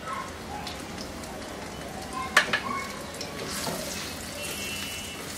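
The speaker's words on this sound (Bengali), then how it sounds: "ওগুলো দিয়ে একটু ভেজে নিব বাগারের জন্য" Chopped garlic and dried red chillies frying in mustard oil for a tempering give a soft, steady sizzle with a brief clink of a utensil partway through and no talking.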